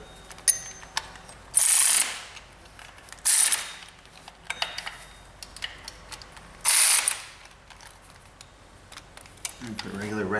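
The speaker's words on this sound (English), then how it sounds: "And put a regular ratchet on that." Ratchet wrench clicking on the belt tensioner bolts of a GM 3800 engine, three loud bursts of rapid ratcheting spaced across the clip, with quieter handling noises and some talk between them.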